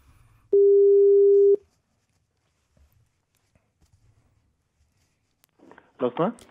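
A telephone call being placed: one sustained ringing tone of about a second, then faint clicks and near silence, followed by a brief burst of voice at the end.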